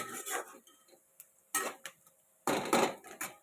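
Garlic being crushed in a home kitchen for chicken soup, three separate bursts of pounding and crunching knocks on a hard surface, close and crisp with quiet gaps between.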